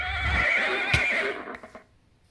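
Horse in the modded Minecraft pack Hexxit gives a loud, close whinny that wavers and then fades, heard alone without talk.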